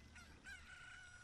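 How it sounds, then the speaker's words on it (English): A rooster crows at dawn in the video game The Legend of Zelda: Ocarina of Time, a single faint, drawn-out cock-a-doodle-doo over a low background hum. "As soon as we hear that crow or chicken, whatever you want to call it."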